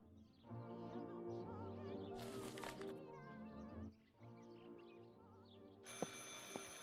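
A telephone rings repeatedly in a steady pattern over a dense, tonal musical backdrop, set during a wartime street battle in Livorno, Tuscany.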